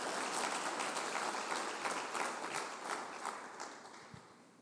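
A congregation at a church service claps steadily, fairly faint, the applause sustained for a few seconds before tapering off.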